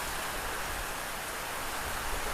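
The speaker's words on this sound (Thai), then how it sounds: "ฝนตกแล้วเด้อพี่น้อง ชุ่มฉ่ำแล้วจากที่แล้งมานาน" Steady, dense hiss of rain falling, an even wash of drops with no pauses and no voices.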